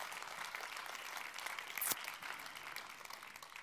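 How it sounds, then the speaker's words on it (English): An audience at a media prize ceremony applauds with steady, moderately quiet clapping, broken by a brief sharp knock near the middle. "So another clapping, please."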